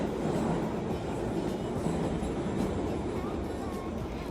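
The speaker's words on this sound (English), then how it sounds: "We rode the subway surprisingly a lot." A New York City subway train rides along with a steady, dense rumble of wheels and carriage noise at moderate level, with faint rhythmic clicks from the track and no clear talk over it.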